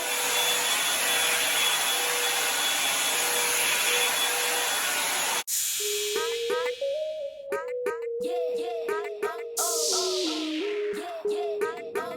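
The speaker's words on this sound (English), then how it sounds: "I blow dried my hair" A hair dryer blows on natural hair with a loud, steady, close whooshing roar that runs unbroken for about five seconds, then cuts abruptly to music with a clear melody.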